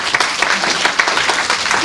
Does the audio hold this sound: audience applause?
yes